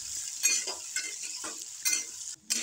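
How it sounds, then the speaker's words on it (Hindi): Sliced onions fry in oil with cinnamon, cardamom and dried red chillies, a soft close sizzle punctuated by rhythmic spoon-stirring scrapes and a brief pause near the end. "तो उसी तेल में अभी इसमें दालचीनी, इलायची और दो सूखी लाल मिर्च डाल रही हूँ। इसको थोड़ा सा भून लेंगे"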